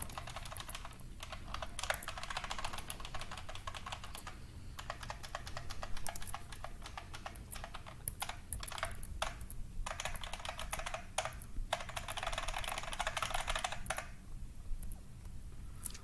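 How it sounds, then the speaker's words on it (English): Rapid, loud clacking of computer keyboard typing, continuous bursts of keystrokes with brief pauses, close to the microphone and with no voices. "I know I have a loud keyboard."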